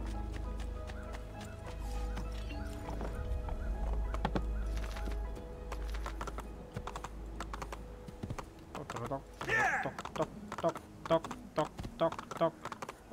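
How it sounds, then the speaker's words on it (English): Hooves clip-clop on a ridden horse in Assassin's Creed 2, a quick galloping rhythm with tapping beats, mixed with game sounds and a person talking over it. "Okay, horse riding"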